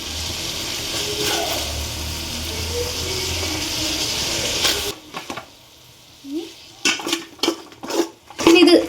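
A cabbage and rice mixture is stirred and sautéed in a pot, first as a steady sizzling wash, then as sharp spoon-and-metal clinks and scrapes against the pot in irregular bursts.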